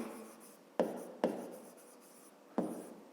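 A pen writing on paper for a fifth-grade maths exercise: three sharp, close scratchy strokes, each followed by a short fading scrape, in a quiet room with no talk.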